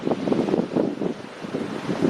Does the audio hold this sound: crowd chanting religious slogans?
no